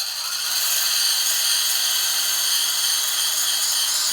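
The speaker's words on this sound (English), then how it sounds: "I'm only going to grind on one side." Grinder working on one side of an engine part for a 383 engine build, a loud continuous high-pitched whir that holds steady after a brief spin-up, close by and alone.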